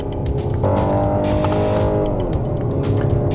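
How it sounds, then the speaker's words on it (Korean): A Renault Samsung SM6 engine revs hard in second gear on a winding road, climbing in pitch and holding a loud, rising drone close by with a brief tire squeal. "2단에서 저돌적으로 엔진 회전수를 높이는 게 꽤 매력적입니다"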